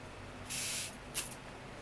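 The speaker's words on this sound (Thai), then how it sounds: "มันดู สเปรย์แบบเบาๆดีนะครับ" Two quick bursts of a cosmetic mist spray, a longer hissing puff followed by a shorter one, close and fairly soft in a quiet room.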